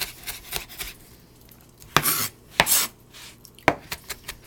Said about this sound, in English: Bear with me as I chop through this.